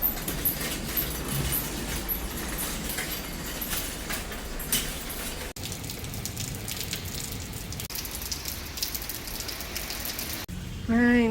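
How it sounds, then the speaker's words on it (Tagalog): Heavy rain pours down on a winter day in Canada, a dense continuous roar of drops with a brief change partway through and a short burst of other sound at the very end. "Ang lakas ng ulan."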